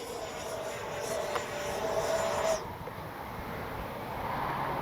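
An FMS 70mm Avanti S V3 radio-controlled ducted-fan jet flies overhead with a steady, moderately distant whine that swells, then drops in pitch and loudness as it pulls away.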